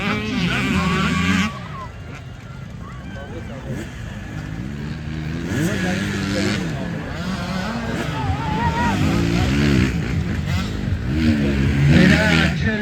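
An enduro motorcycle rides the track at an event, its engine revving and shifting pitch in continuous waves at moderate distance, with people talking over it throughout.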